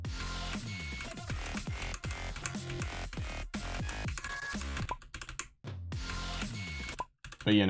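Rapid, dense keyboard presses while playing the osu! Mania rhythm game, rattling in fast rhythmic runs with brief pauses and a voice speaking over them.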